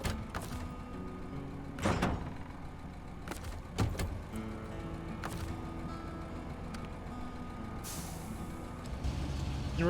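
A truck's air brakes in the SnowRunner video game hiss loudly in several sharp bursts over a steady low engine rumble.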